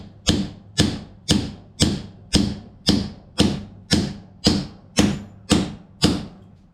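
Ball joint press seating a bearing onto a GM 12-bolt posi unit, giving about ten evenly spaced, sharp metallic clacks, each with a short ratcheting decay, close and alone.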